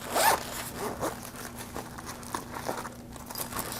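A zipper on the bag of an OMP One EVO X racing glove is pulled in one close, crisp rasping stroke, followed by softer rustling and fabric handling.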